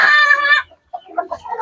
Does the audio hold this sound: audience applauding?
no